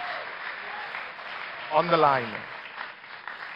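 Audience applause for the candidates at the close of a 2019 presidential debate, a steady wash of clapping running through the whole stretch while a voice speaks briefly over it.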